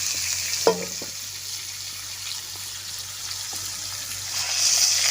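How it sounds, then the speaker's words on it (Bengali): Snakehead fish frying in a pan give a steady, moderate sizzle with one sharp clink near the start, and the hiss swells slightly toward the end. "মাছগুলো সব ভাজা হয়ে গেছে,"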